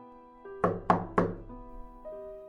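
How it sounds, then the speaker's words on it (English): Three firm knocks on a hotel room door, evenly spaced and close, set against a quiet tonal music bed that continues before and after. "Then there was a knock at the door, the hotel room door"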